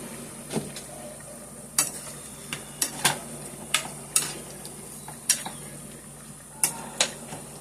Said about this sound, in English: So we got our shrimp cooking.